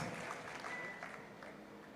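Church audience applauding to welcome a pastor, a steady wash of many hands clapping that stays even and slightly distant, without any speech over it.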